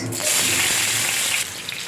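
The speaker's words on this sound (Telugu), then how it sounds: "ఆయిల్ హీట్ అయ్యాక ఆవాలు జీలకర్ర అవి ఆడుతున్నప్పుడే ఆనియన్స్" Onions dropped into hot oil already crackling with mustard and cumin seeds, giving a loud, steady broadband sizzle that swells after a brief start and eases near the end, close and alone.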